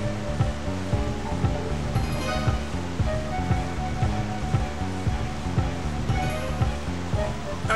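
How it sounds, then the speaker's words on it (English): Water rushing through floodgates in the Fullmetal Alchemist 2 video game, a steady roaring surge of water blended with a rhythmic looping game music track, moderately loud and continuous. "Wow, look at those floodgates. Just think of the thousands of gallons of water rushing through there."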